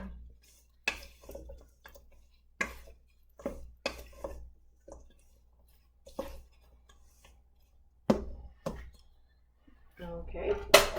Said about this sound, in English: And I'm gonna stir them up a little bit here.